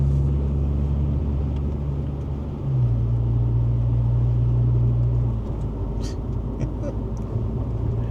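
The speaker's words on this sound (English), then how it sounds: "Try to hit some of these big bumps here" A 2005 Honda Accord on new BC coilovers rolls over big bumps, with a steady low road rumble and engine drone from inside the cabin, a note change partway through, and occasional faint thumps.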